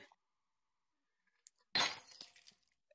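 Glass breaking in the VRChat video game: one sharp shattering crash with a tinkling tail of falling shards, loud and close, preceded by a few faint clicks.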